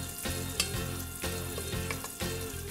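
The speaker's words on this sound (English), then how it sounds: "I'm just adding this to the pan, and I'm going to cook it slowly over medium-low heat to crisp up the bacon and render out that bacon fat" Thick-cut bacon frying slowly in a pan over medium-low heat, a steady close crackle and sizzle with irregular pops and spatters throughout, no voices.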